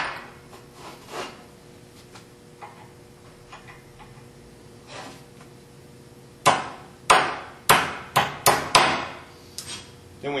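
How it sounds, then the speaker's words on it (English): Laser-cut steel plugs tapped down into the holes of tubular control arms for an S10, heard as a run of about six sharp, close metallic hammer taps in quick succession after quieter shop sounds. "we have these laser cut plugs that just tap down inside the hole"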